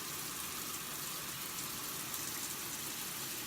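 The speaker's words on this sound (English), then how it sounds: "shower head working." Steady, hissing spray of water pouring down continuously from a shower panel's shower head, a dense even rush with no pauses and no voices.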